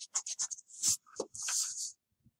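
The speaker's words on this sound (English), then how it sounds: "you can draw it like that and then erase" A pencil draws short lines on paper and an eraser rubs them out: a quick series of separate scratchy strokes followed by a longer rubbing scrub, close and quiet, then near silence.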